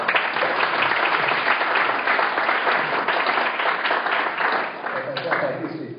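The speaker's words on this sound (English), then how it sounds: "big round of applause" Sustained applause from a conference audience thanking a panel at an advertising industry event, broad and steady clapping that fades a little near the end, with some muffled voices mixed in.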